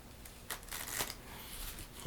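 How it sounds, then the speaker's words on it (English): Playing cards riffle-shuffled in a few quick bursts, close and crisp, with a soft flutter between them and no talking. "I'm going to shuffle these face up and face down cards into each other"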